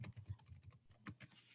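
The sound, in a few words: typing a comment on a computer keyboard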